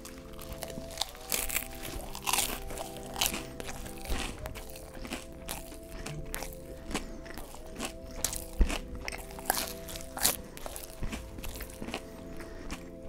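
Close, crisp bites and chewing of a crunchy Chungchun rice hot dog, a corn dog with a sugary battered crust, with repeated crunches and munching throughout and no talking.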